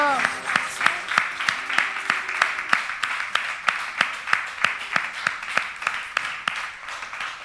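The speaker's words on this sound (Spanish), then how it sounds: "Vamos a darle un fuerte aplauso al Señor" A church congregation applauds during a sermon with strong, evenly spaced rhythmic claps. The claps carry on loud and steady throughout, with a voice briefly heard at the start.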